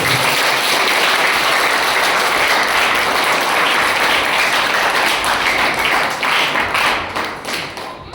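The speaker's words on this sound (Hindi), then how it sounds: "एक जोरदार ताली यीशु मसीह के लिए।" A church congregation claps hard and steadily for several seconds during a Hindi sermon, the dense applause easing and thinning toward the end.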